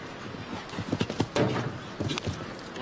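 Hooves of a show jumping horse clip-clop across the course at the Longines FEI Jumping Nations Cup in St. Gallen, a run of close, uneven footfalls with a soft snort and faint commentary underneath.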